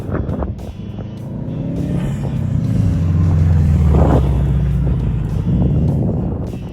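A Subaru WRX with a manual gearbox runs an autocross course, its engine note loud and rising as it accelerates through gears, with a steady rumble and occasional tire or shift transients and no talk.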